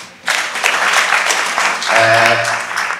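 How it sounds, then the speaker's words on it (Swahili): Audience applause at a Swahili-language gathering, a loud burst of many hands starting abruptly and holding steady for a few seconds, with a voice briefly calling out over it. "Naomba tujipigie makofi."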